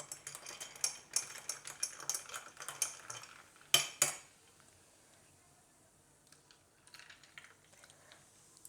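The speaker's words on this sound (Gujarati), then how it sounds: "ચમચીથી હલાવી લેવું." A spoon stirring a raw mango shikanji drink with ice and Sprite in a glass: rapid, light metallic clinks and taps for about four seconds, ending in a couple of sharper knocks, then near silence with faint scattered ticks.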